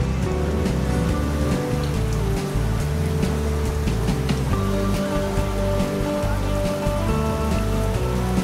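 Steady heavy rain pouring down in Zamboanga City, a loud continuous hiss of drops on surfaces over a low rumble, unbroken throughout with no voices.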